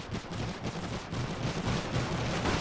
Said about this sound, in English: Machine guns, cutting them up.